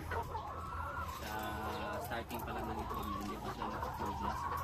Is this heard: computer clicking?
no